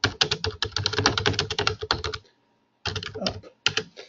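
Rapid close typing on a computer keyboard, dense runs of clicking keystrokes that stop briefly into silence, then resume in two shorter bursts.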